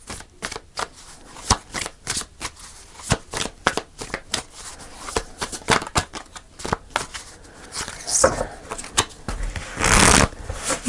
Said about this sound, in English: Let's just do a couple more shuffles and see if one comes out.